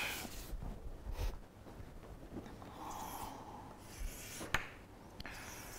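Marker or chalk strokes drawing a diagram on a board, faint scratchy rubbing in short irregular bursts with a few sharper taps, close but quiet.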